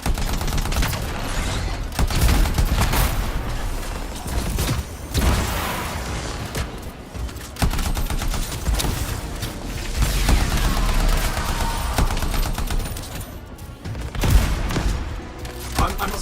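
Rapid bursts of turret gunfire and blasts in Anthem, loud and close, coming in repeated volleys with short pauses and occasional voices mixed in.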